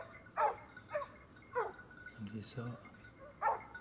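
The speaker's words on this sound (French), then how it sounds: "on entend bien les chiens le mener" Hunting dogs bark repeatedly in the distance while driving game through woodland, several separate yelps spread across the moment, with someone speaking briefly in French in between.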